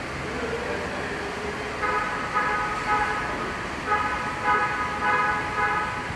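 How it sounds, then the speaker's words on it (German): A car horn honks repeatedly in a BMW service workshop in China, several short harmonic toots in an irregular pattern over steady workshop and traffic noise, moderately near. "wenn einer rückwärts fährt, muss er hupen wie wild"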